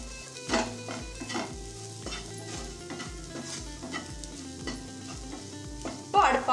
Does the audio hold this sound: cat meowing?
no